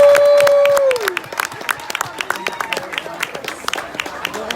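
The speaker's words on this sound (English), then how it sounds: "Let's have another round of applause for our 2019 award" Audience applause at an award ceremony: dense clapping from a crowd that fills the whole stretch, loud at first and then steady, with a sustained tone fading out near the start.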